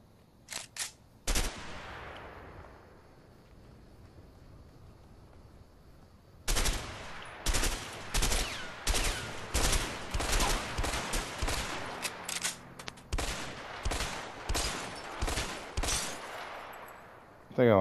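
Gunfire in the video game A Way Out: a few isolated shots, a pause, then a long run of loud sharp bursts and rapid rounds with short gaps between them.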